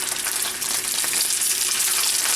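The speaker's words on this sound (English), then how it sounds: "All right, we're going to start cooking our sausages in here now." Sausages fry in a preheated pan while a toad-in-the-hole is being made, giving a loud, steady sizzle with crackling spatter that runs without a break and with no voices.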